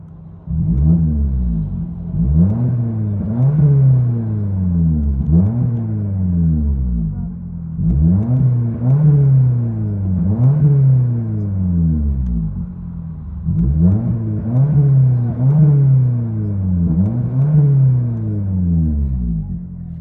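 Deep engine exhaust rumbling in repeated rev cycles from a 2022 Toyota Corolla SE 2.0L with a bottle resonator and muffler, rising and falling roughly every couple of seconds, heard from inside the cabin.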